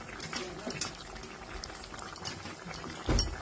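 Fish curry with green tomatoes simmers in a pan, a soft continuous bubbling with a brief louder clatter near the end.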